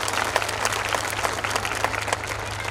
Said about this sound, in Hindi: ऐसी विभूतियों का जरूर तालियों से स्वागत एक बार जरूर करें